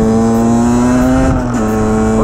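A 50cc Derbi Senda motorbike engine screams at high, steady revs during a no-clutch wheelie in fourth gear, loud and close with a sustained buzzing whine that dips slightly in pitch near the end.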